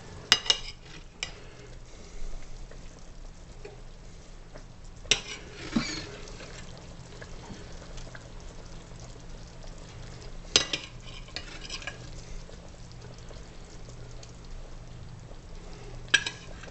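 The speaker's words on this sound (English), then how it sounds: "Now to transfer the Salisbury steak into the gravy." Salisbury steak of ground beef simmering in gravy, a faint, steady bubbling with soft stirring and a few clinks of utensils against the pan.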